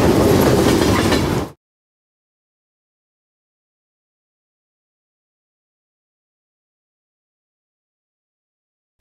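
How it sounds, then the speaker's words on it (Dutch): A tramway running on rails, heard as a loud rumbling rail vehicle with clattering wheels for about a second and a half before cutting abruptly to silence. "Tramway."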